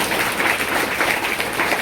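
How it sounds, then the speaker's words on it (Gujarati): An audience applauds in a steady, dense wash of clapping at a Sunday youth organisation event held at a school, loud and sustained with no voices over it. "એને એક વખત આપણે તાળીઓથી વધાવીએ અને એના સન્માન માટે ફરીથી આપણે એ લોકોને તાળીઓથી વધાવીએ"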